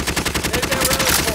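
Rapid bursts of automatic gunfire from Call of Duty: Modern Warfare, loud and continuous with close, clattering shots over a busy game mix.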